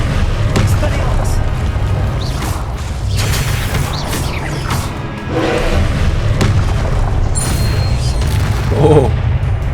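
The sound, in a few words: Confringo blasting curse explosions in video game Hogwarts Legacy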